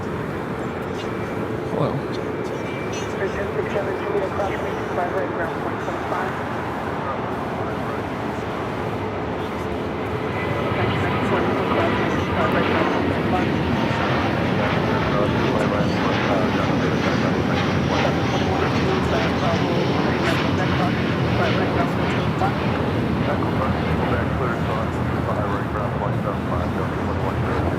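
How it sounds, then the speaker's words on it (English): A Delta Airbus A330neo rolls for takeoff at Los Angeles airport, its engine roar building into a loud, steady broadband rumble that swells and holds, with a voice speaking over it. "we have the Delta Flight 7, 330neo now rolling"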